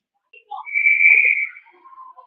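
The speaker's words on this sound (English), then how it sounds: "we're going to whistle, and they're going to call the play dead" A referee's whistle at an ice hockey game, one sharp, sustained shrill blast of about a second, clear and prominent over a quiet background.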